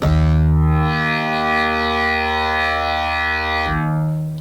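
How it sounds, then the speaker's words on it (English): A sustained synthesizer pad from a Yamaha TG77/SY77, produced by holding down a key, swells and holds steady, rich and loud, then fades out at the end. "we get that swelling sort of filler sound, the pad sound"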